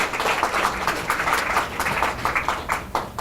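Warm audience applause at a startup contest award ceremony, a steady patter of many hands clapping at moderate volume with no talk over it.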